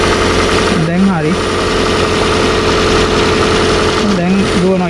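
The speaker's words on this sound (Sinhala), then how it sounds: "දැන් දුවනවා. ඒත් එන්ජින් එක ෂේක් වෙනවා." A 2013 Toyota Prius v engine, freshly fitted with a new head gasket, runs roughly and shakes, giving a steady, loud mechanical drone with a rhythmic pulsing. Voices cut in briefly near the start and end.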